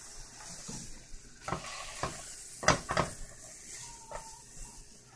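Sausages sizzling in a pan for a sausage and peppers sandwich, a low steady frying hiss broken by several clanks and scrapes as they are pressed down and turned, fairly quiet and close.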